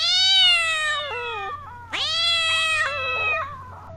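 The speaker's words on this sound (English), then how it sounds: "so cat make a sound of meow." A cat gives two drawn-out, loud meows, close and clear, the second starting after a brief pause, with no other voices.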